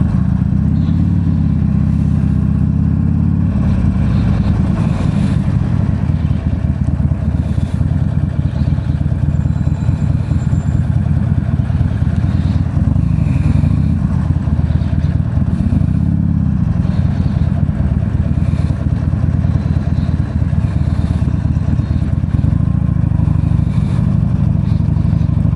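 A motorcycle engine idles steadily inside an old-school motorcycle shop, a continuous low, throbbing rumble with light clatter that stays close and even for the whole stretch.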